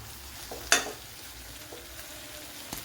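Chicken frying in a covered pan, a soft low sizzle with one sharp crackling burst early on and a few faint pops after, no voices.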